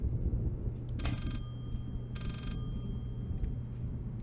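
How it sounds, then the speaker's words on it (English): Two short bursts of bright electronic ringing inside the horror game Layers of Fear, the first brief and the second lasting about half a second, sounding over a steady low hum with no talking. "Is the plant ringing?"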